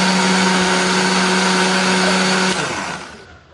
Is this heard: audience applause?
no